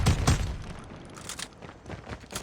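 Sustained automatic gunfire in the Call of Duty Mobile video game, a dense burst of rapid shots loudest at the start and continuing in fainter, uneven volleys, with no talking.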